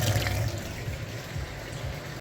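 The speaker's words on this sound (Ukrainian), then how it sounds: "Вже триває промивочка на дистильованій воді з цієї системи охолодження" Distilled water rushes steadily through the coolant system of a VW Golf 7 during a machine flush, a close, continuous hissing gurgle with no voices.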